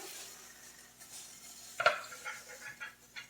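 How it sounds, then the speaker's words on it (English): Cooked chicken pieces scraped from a frying pan onto a plate, a quiet metallic scrape with one sharper clink, followed by light sizzling and small clatters, close by. "These two are done, so I'm going to slide these over to a plate"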